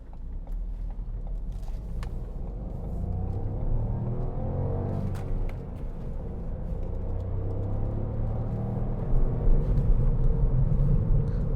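A 2016 Ford B-Max Titanium X with a 1.0-litre turbocharged EcoBoost three-cylinder engine drives in traffic, its engine giving a steady low hum and rumble from inside the cabin that rises slightly toward the end.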